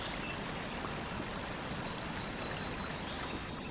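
A small stream flows steadily, a soft continuous rush of water with no other sounds.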